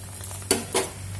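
Parotta frying in oil on a pan gives a soft steady sizzle, broken by two short clinks or stirs close by, with no voices.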